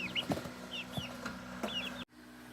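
Chicks in a brooder under a chicken-wire lid give several short chirps and clucks, scattered and close by, with a steady low hum underneath.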